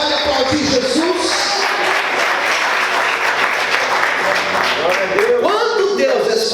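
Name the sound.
church congregation applauding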